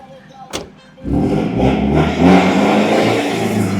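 A Chevrolet Colorado 2.5 pickup truck's engine starts and settles into a loud, rumbling aftermarket exhaust roar that swells and revs steadily, close by.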